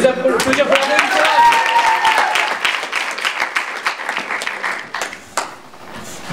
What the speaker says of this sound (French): On peut les applaudir pour la victoire.